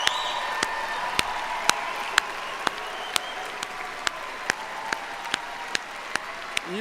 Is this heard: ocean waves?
no